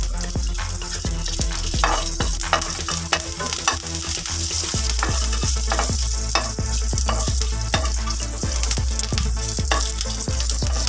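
Coriander leaf chutney seasoning frying steadily in hot oil, a close, continuous sizzle broken by repeated stirring scrapes and small crackling pops throughout.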